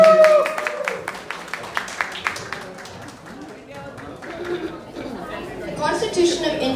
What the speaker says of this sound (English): Have a big applause for him